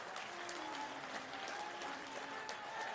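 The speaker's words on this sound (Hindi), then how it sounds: "यह बयान सुनकर कुछ लोग तालियां बजा रहे थे" An audience at a political rally applauds, with dense, steady clapping that sounds somewhat distant and continues unbroken for the whole stretch.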